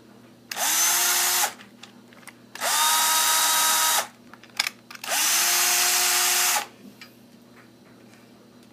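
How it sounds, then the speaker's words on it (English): A cordless drill, running on borrowed external power instead of its battery, whirs up three times in separate bursts of about a second each, loud and close, with short quiet pauses between runs. "Now this might be the lightest drill you ever used"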